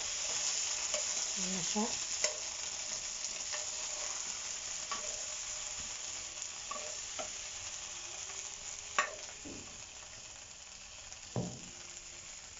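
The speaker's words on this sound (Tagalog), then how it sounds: "ilalagay na po natin yung ating eggplant sa ating kare-kare" Eggplant stirred into beef kare-kare in a hot pan, a continuous soft sizzle with scattered scrapes and clinks of the spoon; a voice speaks briefly.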